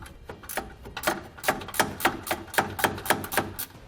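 A 13mm socket wrench ratchets on bolts under a 2019 Chevrolet Silverado, a quick, evenly spaced run of sharp metallic clicks, close and distinct with no voices.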